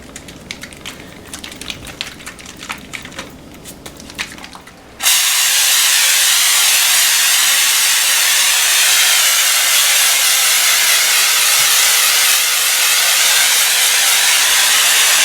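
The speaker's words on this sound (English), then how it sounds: "here's the trigger that we pull, and we need to keep it about 20 to 30 inches from the ceiling as we spray" An aerosol can sprays popcorn ceiling texture in a loud, continuous broad hiss that starts abruptly after a few seconds of quieter clicking handling sounds and holds steady to the end.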